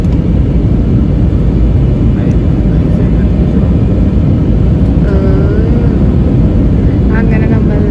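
A roughly 80% full passenger airliner rolls down the runway after landing, its engine and wind roar steady and loud throughout, with faint whining tones near the end.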